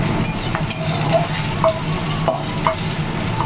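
Scrambled eggs fry and sizzle in a pan while a utensil stirs and scrapes, giving a steady loud hiss punctuated by regular clinks against the pan, with no voices.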